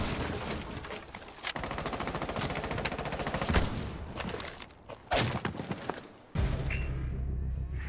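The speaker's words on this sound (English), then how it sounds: "I'm just going to shoot this window off of ghost pressure" Rapid automatic gunfire in Rainbow Six Siege shooting out a window, a loud, dense stream of shots near the listener, broken by brief pauses and a few heavier bangs.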